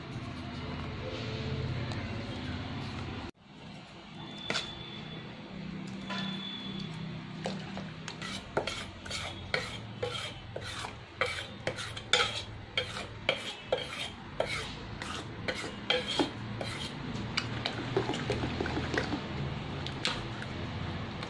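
Boiled lentils being mashed and stirred together with tamarind water for sambar, giving a steady wet squishing and scraping in a pot, with a run of close, sharp utensil clicks and taps.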